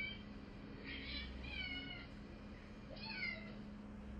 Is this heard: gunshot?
no